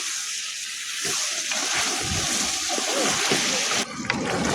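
Hot oil sizzles and spatters loudly as water hits frying chicken in the pan, a sustained hissing splash close up.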